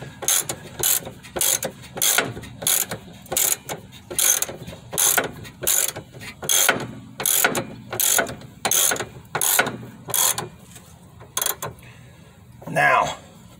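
A ratchet wrench clicks in quick repeated bursts while fitting the rear shock on a 2005 Chevy Malibu, with about fourteen evenly spaced back-and-forth strokes, loud and close, followed by a brief metallic scrape at the end.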